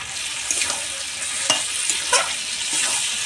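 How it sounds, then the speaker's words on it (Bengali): Fried potatoes stirred into a sizzling duck curry in a pan, with steady frying hiss and a few sharp scraping stirs, close and continuous. "তো ভেজে রাখা আলু দিয়ে দিচ্ছি।"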